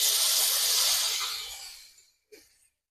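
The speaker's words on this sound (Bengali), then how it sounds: "এবার চলো আমি জলটা দিয়ে এবার চালের মধ্যে" Water poured into rice in a hot pan hisses with a loud burst of steam that fades over about two seconds, then a short, fainter sizzle flares and dies away.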